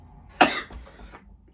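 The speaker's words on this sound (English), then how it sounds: "I'm sorry just for the cough, because it's just never pretty." A single sharp cough, close and clear, bursts out and trails off briefly.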